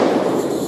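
A single loud, broadband blast from a Desert Eagle .50AE pistol fired at a body armor target, a dense burst filling the whole short span with no talk over it.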